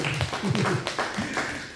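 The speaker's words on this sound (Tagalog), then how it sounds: "Palakpak naman dyan." Scattered applause from a large audience at a mentoring seminar: a short burst of uneven, sparse claps and taps, with voices mixed in.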